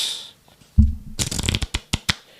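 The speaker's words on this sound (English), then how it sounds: "And you need to learn how to shuffle." A deck of playing cards is shuffled close up: a soft thump, then a riffle burst followed by several sharp, evenly spaced snaps as the cards are squared and bridged.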